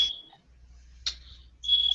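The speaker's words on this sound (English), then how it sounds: "let me fix this fire alarm" A smoke-detector-style fire alarm beeps in a steady high-pitched tone at the start and again at the end, with a short chirp in the middle, clear and fairly close in a quiet indoor room.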